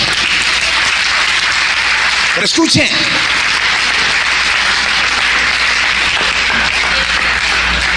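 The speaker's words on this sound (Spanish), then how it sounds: "un aplauso a Jesús" Church congregation applauding during a Holy Week sermon, a dense continuous wash of clapping filling the whole stretch, with a voice speaking briefly over it partway through.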